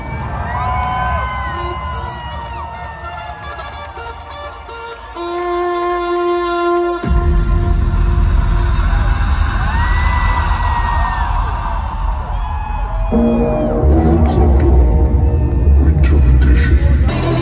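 A large crowd cheers, whoops and yells at the World Club Dome 2022 Winter Edition club event in Düsseldorf, loud and continuous over booming electronic music, with an announcer's voice heard amid the noise.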